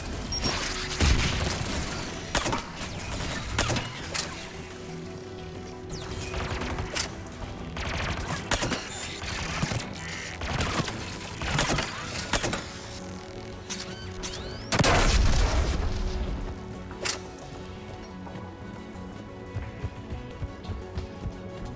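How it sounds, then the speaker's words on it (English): Geth anti-aircraft guns fire in Mass Effect 3, heard as dense, continuous gunfire, booms and crashes in a chaotic battle mix with no talk. "The Geth anti-aircraft guns are up ahead."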